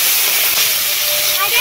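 Puti fish dropped into hot mustard oil in a kadai over a fiercely burning village stove, giving a loud, dense hiss of sizzling close up that holds steady throughout.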